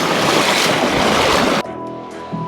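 Rushing river water in the Azerbaijan hills, a loud, close and steady roar that cuts off abruptly partway through, leaving a quieter, humming background.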